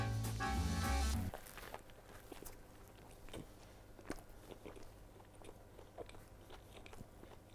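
Biting into and chewing a McDonald's Big Mac, a loud burst at the start then soft, close crunching and chewing sounds in a quiet room, with no talking.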